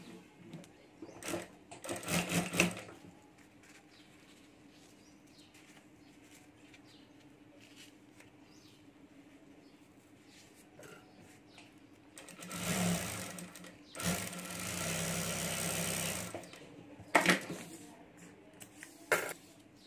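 A sewing machine stitching fabric over a rubber sheet for a mini backpack keychain, with short mechanical whirring runs early on and a longer, louder stretch of rapid stitching later, near and clear with quiet handling between.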